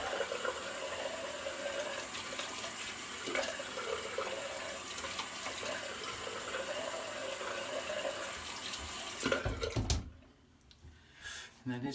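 A bathroom tap runs steadily for a cold-water rinse after a straight-razor shave with a menthol product, a continuous close hiss of water that cuts off near the end, leaving brief handling noises.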